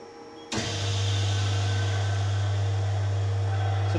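An oxygen plasma system's vacuum pump switches on abruptly and settles into a loud, steady low hum with a constant mechanical drone, running alone without pause.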